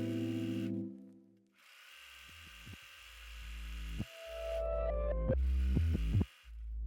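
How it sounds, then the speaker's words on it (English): A sewing machine stitches the lining of a bias-cut dress in place about 2 cm from the edge, running in several close, steady motor bursts with short pauses between them and no talking. "Stitch the lining in place with a stitch approximately 2 cm from the edge."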